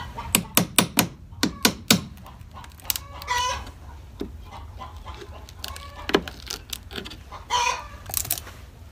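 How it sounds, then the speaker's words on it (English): Farmyard chickens cluck and squawk loudly in the background while laying eggs, with bursts of sharp cackling at the start and scattered calls afterward. "we got the chickens in the background making the chicken song"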